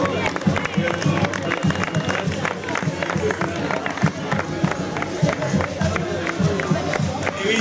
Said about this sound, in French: Mehdi, on peut l'applaudir